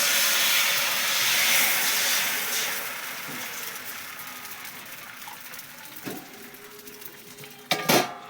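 Rice flour batter for ghavan cooks on a hot griddle over a wood-fired stove, a soft steady hiss that fades, then a few sharp metal clanks from utensils near the end.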